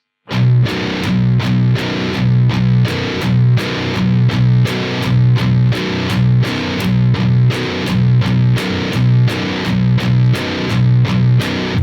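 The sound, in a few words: distorted guitar palm-muted power chord riff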